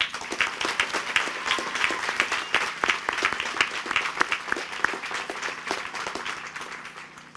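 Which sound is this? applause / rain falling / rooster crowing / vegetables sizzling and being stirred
applause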